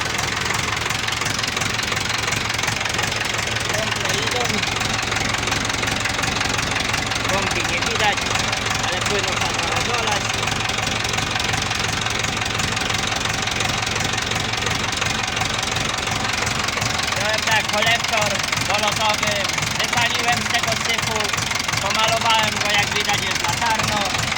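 Ursus C-360 tractor engine runs after cylinder head regeneration, idling with a steady, loud knocking throb that stays close and even throughout, with voices talking faintly under it.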